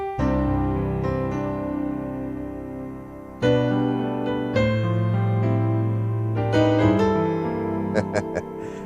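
Sustained gospel piano chords shifting step by step, rising a half step into a resolving target chord, notes overlapping richly, with a few bright high notes near the end.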